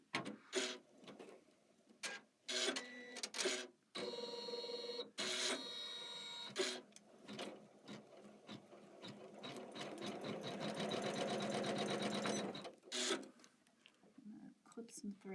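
A Kimberbell embroidery machine stitches a scallop outline, its rapid needle chatter running in bursts broken by pauses, building to a longer steady run near the end, with a person speaking at moments in between.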